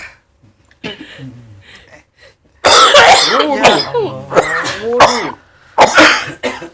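Several harsh coughs and throat-clearing bursts, close and loud, coming in uneven clusters with short pauses between them.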